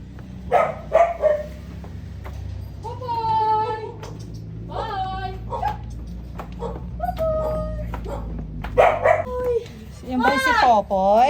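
A dog barks several times in short bursts, fairly close, mixed with chatter from voices nearby.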